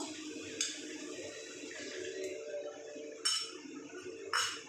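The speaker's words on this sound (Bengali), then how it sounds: "এবার আমি এই যে দইয়ের বাটিটা ধুয়ে একটু জল দিয়ে দেবো" A yogurt bowl is rinsed and topped up with water, faint splashing and trickling broken by several sharp clinks of the bowl against metal at irregular moments.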